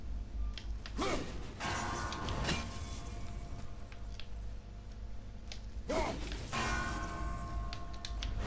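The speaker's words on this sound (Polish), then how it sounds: "nienawidzę tych dzwonów" Bells ring in the God of War video game, struck several times in an irregular sequence amid a dense game soundscape of mechanical creaks and ambient rumble, each strike rising over the steady background.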